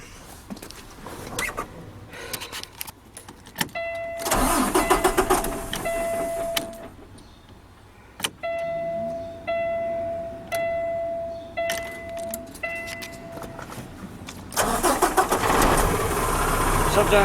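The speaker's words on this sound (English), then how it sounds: "Sometimes these trucks suck to start up." A semi truck's starter cranks in repeated short bursts, stopping and starting again several times while a beeping tone sounds. A loud engine catch or roar comes near the start and again at the end.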